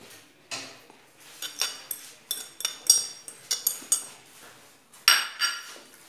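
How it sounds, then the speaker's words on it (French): A spoon or utensil clinks and scrapes in a bowl while mashed potatoes and tuna are mixed, a series of irregular light taps, close and fairly quiet, with no talking. "Donc on mélange et on forme des boules"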